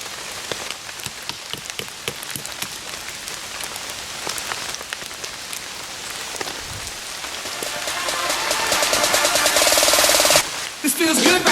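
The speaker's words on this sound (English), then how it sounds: "I'm gonna let this rain slack up a little bit" Rain pattering on a surface nearby outdoors during a Florida bowhunt, growing louder and denser toward the end, with scattered drips and a voice underneath.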